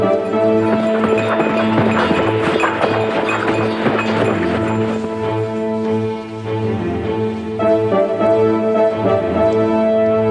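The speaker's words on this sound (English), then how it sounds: "Saddle my horses at once." Cartoon horses gallop with rapid, steady clip-clopping hooves, the beat running throughout under a loud, sustained musical score, with no speech.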